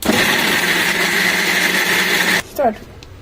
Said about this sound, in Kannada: ಅದನ್ನ ಮಿಕ್ಸಿಲಿ ಹಾಕೊಂಡು ಸ್ವಲ್ಪ ಪೇಸ್ಟ್ ಮಾಡ್ಕೊಳ್ಳಿ